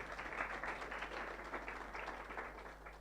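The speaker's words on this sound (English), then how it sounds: "whom I want you to clap for" An audience at an agri-tech entrepreneurs forum claps steadily and fairly densely for a few seconds, a faint, distant-sounding wash of applause.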